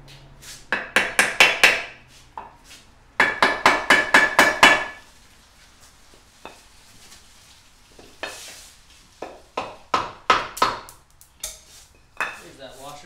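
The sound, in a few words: a few gentle hammer taps during Mercury Optimax impeller work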